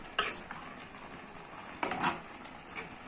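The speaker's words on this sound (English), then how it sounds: "Can you see how I'm stirring it?" A spoon stirs efo riro in a cooking pot, making a few faint scraping clinks against the metal with quiet pauses between them.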